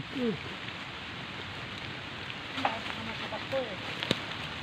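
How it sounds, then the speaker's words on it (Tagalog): Heavy rain pours during a rambutan-picking outing, a dense, unbroken hiss that fills the whole stretch. A few faint chirps or calls poke through the downpour. "Umuulan na siya mga kaibigan."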